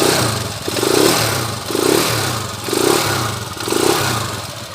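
Motorcycle engine on an old abandoned bike in Tarlac City, sounding muffled and choked, revved repeatedly in an even rhythm of about four swelling, rising bursts with clattery mechanical noise between them, close up and loud.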